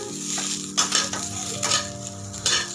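A spice masala for katachi amti fries in hot oil with a steady crackling sizzle, broken by several louder scraping stirs of a spoon against the pan.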